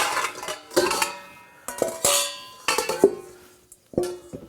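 Silicone-bottomed mixing bowls clatter and clank as they are pulled out of storage, several separate knocks and ringing hits spaced irregularly, close and moderately loud with no talk.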